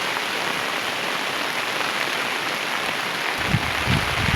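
Rain pours hard onto a rooftop in a dense, even roar of drops, with heavier low splashes and patters building near the end, no talking.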